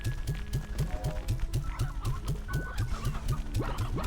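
Stony hens clucking in the video game Slime Rancher: a steady run of short, repeated clucks in an even rhythm, fairly quiet, layered with soft background game sounds and no talking.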